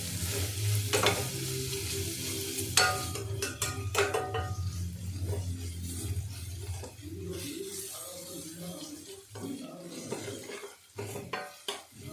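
Ginger garlic paste fries in a pan under a steady sizzle while a utensil stirs it, scraping and clinking against the metal with sharp taps near the end.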